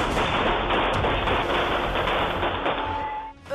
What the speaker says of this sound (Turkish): Önce silah sesleri